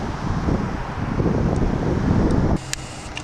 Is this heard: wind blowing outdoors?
yes